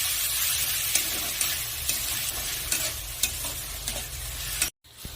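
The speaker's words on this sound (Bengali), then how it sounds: "তো বন্ধুরা এখন আমি নেড়ে চেড়ে 3 মিনিটের মতো কষে নেব।" Spices cooked down with ground tomato paste, salt and turmeric in a pan for snail curry: steady close sizzling with irregular scrapes and clinks from stirring, then a brief cut near the end, without any talking.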